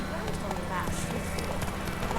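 Roach the horse galloping in The Witcher 3, rapid rhythmic hoofbeats under a steady game soundscape, with a voice talking over it.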